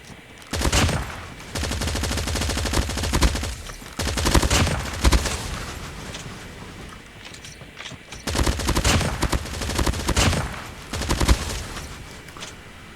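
AK117 assault rifle bursts in COD Mobile ranked play come as loud, rapid automatic volleys in several separate strings, with short quieter gaps between them.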